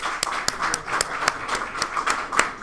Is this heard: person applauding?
yes